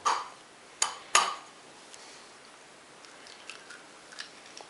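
An egg cracked against a hard edge in a kitchen, a couple of sharp close taps followed by faint wet shell and squishing sounds, no talking.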